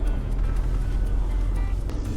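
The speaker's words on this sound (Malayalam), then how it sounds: "ഒരു പഴയ വണ്ടി പോകുന്നു, വളരെ പഴയത്." A very old car rumbles past on a Cuban road leading toward Revolution Square, a steady low engine drone heard close and fairly loud throughout, with no one talking.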